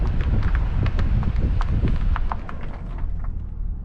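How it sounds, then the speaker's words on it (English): Truck tires crunch over seashells on a beach near Starbase, a close, continuous gritty rumble with rapid irregular cracks and pops, fading slightly at the end, with wind noise underneath. "running over some seashells."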